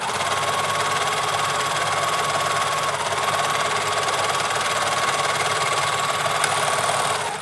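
A sewing machine stitching pants during an alteration, running in a continuous, even whirring hum at close range, with a faint high tone throughout and a brief tick near the end as it slows.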